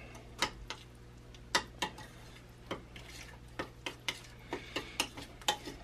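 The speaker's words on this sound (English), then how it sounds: "butter and mix it up." A utensil stirs black pepper, paprika, Mexican oregano and salt into softened butter, giving a quiet series of sharp clinks and scrapes against the bowl at an uneven but steady pace, close by and without talk.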